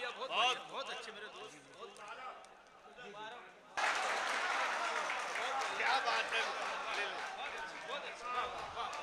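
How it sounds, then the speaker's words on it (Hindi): An audience at an All India Mushaira in Mominpura, Nagpur, applauding after a couplet, sparse clapping swelling into loud sustained applause and crowd noise with voices mixed in. "आप पुरजोर तालियों से इस्तकबाल करें इस शेर का"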